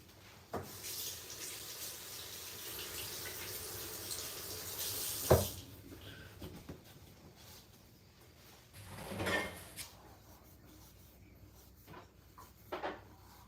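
Hands being washed under a running kitchen sink tap, a soft, distant stream of water with intermittent splashes and a couple of clunks, fairly faint and with no talking.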